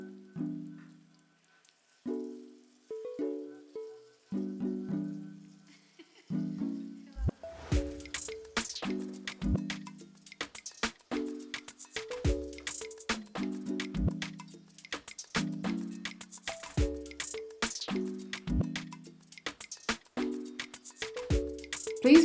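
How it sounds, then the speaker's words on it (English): Prawns fry in a pan, with a steady sizzle and sharp crackles that begin softly and grow denser once the prawns go in, close up. Quiet, clipped piano notes sound alongside and there is no talk. "We're getting ready to fry some prawns"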